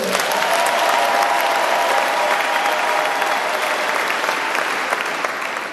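A church congregation bursts into sustained, dense applause that fills the whole stretch at steady loudness, with a murmur of crowd voices mixed in and a slight fade toward the end.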